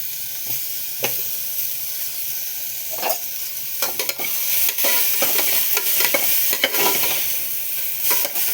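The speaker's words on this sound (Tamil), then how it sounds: "நல்லா தக்காளியை போட்டு அதையும் வதக்கணும்." Tomatoes sauté in a pan, a soft sizzle broken by repeated scraping stirs from a spoon, close and fairly loud, with no talking.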